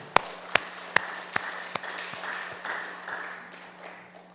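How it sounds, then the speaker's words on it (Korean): A few sharp claps ring out at a church service, then settle into scattered, softer clapping over a low steady hum. "우리 하나님 앞에 영광의 박수를 올리겠습니다."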